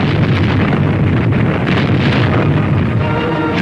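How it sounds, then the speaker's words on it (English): Naval guns returning fire on enemy coastal batteries during the 1944 Dragoon invasion of southern France, a continuous loud roar of heavy booms and rumbling blast noise, with no voices. "We returned the fire."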